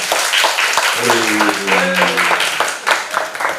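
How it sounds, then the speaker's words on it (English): Audience applause at an international academic workshop on writing and publishing in journals, steady broadband clapping filling the hall for several seconds, with a voice speaking briefly over it midway. "Give a big applause to him."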